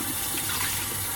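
A Qiviut garment is rinsed under a steady stream of running tap water, a continuous close splashing wash with no voices.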